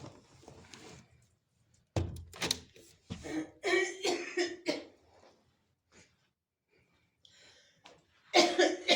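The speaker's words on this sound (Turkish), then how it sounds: "Hemen toz giriyor boğazıma başlıyorum öksürmeye." A woman coughs repeatedly from dust in her throat, in several close, harsh bursts with throat clearing and pauses between them, indoors near a burning stove.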